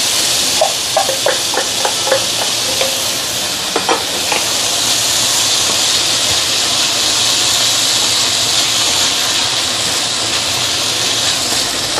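Rice stir-fried in a pan over medium-low heat for Hainanese chicken rice, giving a steady, close sizzle and hiss with scattered scraping stir strokes early on, running continuously without voices.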